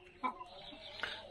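Laying hens on a farm in hot weather give a couple of short, faint clucks against a quiet background.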